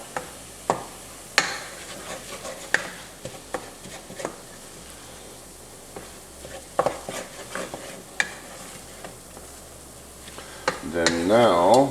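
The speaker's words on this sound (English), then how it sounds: "I'm going to stir that around," A spoon scrapes and stirs flour into browned breakfast sausage in a pan for sausage gravy, with scattered knocks against the pan, soft sizzling underneath and a louder burst of frying near the end.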